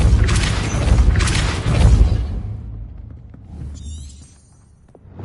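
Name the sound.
Depulso spell effect in the video game Hogwarts Legacy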